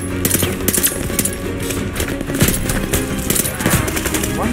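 An MG42 machine gun fires in Call of Duty: Vanguard amid a dense, continuous wartime battle din, its bursts blending with other gunfire and scattered impacts at a steady loud level.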